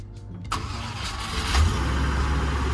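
A Range Rover 3.9 V8 engine cranks and catches, then settles into a steady, fairly loud idle with a slight rise in revs.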